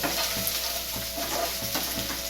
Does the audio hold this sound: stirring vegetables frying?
yes